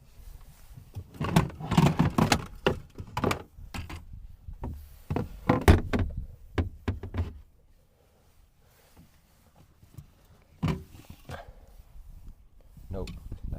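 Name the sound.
sliding door being slid open and shut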